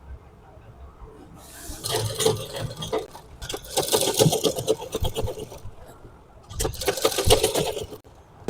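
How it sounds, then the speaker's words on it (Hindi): A sewing machine stitching a lined suit, running in bursts of fast rattling whir with short pauses between runs; close and fairly loud. "अब यहाँ पे हम सिलाई लगाएंगे।"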